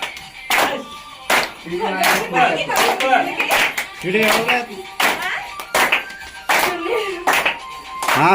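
A group clapping along to Christmas carols, with bursts of hand claps in uneven rhythm and people singing or talking in between.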